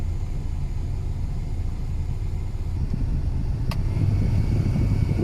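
A steady low rumbling whir of a 1996 Honda City air conditioner blower fan runs continuously, fairly loud, with a faint brief tick near the end.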